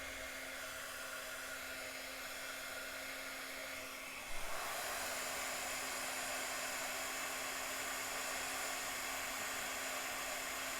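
A heat gun melting embossing powder on card blows with a steady, even whoosh that jumps louder and brighter partway through, then holds a constant airy roar with a faint motor hum.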